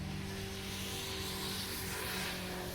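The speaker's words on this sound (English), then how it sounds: "Got all kind of traffic going by all of a sudden." Outdoor road traffic passes by, a faint, steady low rumble of vehicles heard from indoors, continuous and distant with no talking.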